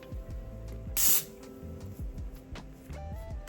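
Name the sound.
Got2b spray being sprayed onto wig lace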